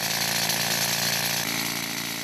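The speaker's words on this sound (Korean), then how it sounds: "측량이 끝나면 특수장비 차감기로 암석에 구멍을 뚫기 시작한다." At a stone quarry, a special rock drill bores narrow holes of about 2.5 cm into hard stone, giving off a loud, continuous, rattling mechanical roar with no pauses.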